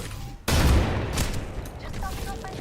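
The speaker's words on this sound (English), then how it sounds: "Incoming grenade." A loud burst erupts in an Apex Legends match as a grenade goes off, followed by a busy stretch of game gunfire and action noise with scattered metallic pings, continuing steadily to the end.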